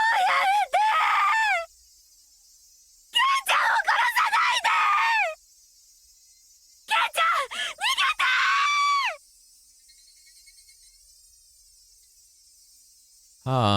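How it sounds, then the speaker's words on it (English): Shion from the Higurashi When They Cry video game lets out three long, shrill, wavering screams, each lasting about two seconds and separated by silence, with a faint high electronic tone lingering afterward. "Shion's screams from the corner of the chamber were enjoyable before, but now they felt unbearably noisy and pissed me off"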